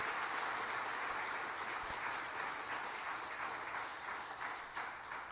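Steady applause from a church congregation after an encore song, a dense, continuous wash of clapping that holds for several seconds and fades slightly toward the end.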